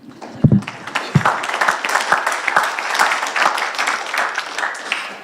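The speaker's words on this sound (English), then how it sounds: "can I just clap on that last" Applause during a discussion event, a brief burst of clapping that starts loud and tapers into scattered claps under low room murmur.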